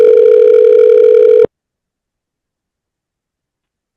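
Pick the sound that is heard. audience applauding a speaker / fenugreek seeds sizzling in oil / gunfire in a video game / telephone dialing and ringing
telephone dialing and ringing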